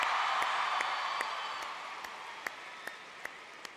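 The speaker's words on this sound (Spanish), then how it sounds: "¡Fuerte aplauso, amigos!" Audience applause fills a hall at the ESLAND 2023 awards ceremony, a dense wash of clapping that slowly thins out and leaves a few scattered, distinct individual claps toward the end, with no clear voices over it.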